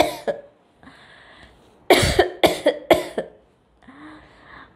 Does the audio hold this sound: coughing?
yes